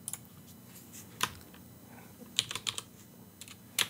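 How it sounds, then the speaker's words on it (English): Light keystrokes on a computer keyboard come in short uneven bursts of close, quiet clicks with brief pauses between words, and no talking. "let's go to Edit, and let's just type"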